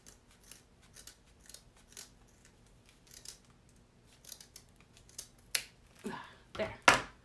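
Scissors snip through yarn to trim a tassel even, a series of crisp close cuts that grow louder and quicker toward the end.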